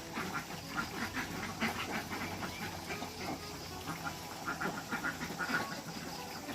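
A flock of farm-raised ducks on duckweed quacks continuously in a faint, noisy chorus, many overlapping calls blending into a busy outdoor din.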